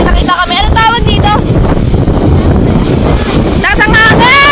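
Strong wind roars and buffets the microphone in a constant loud rush near rice fields, with people shouting over it at the start and end.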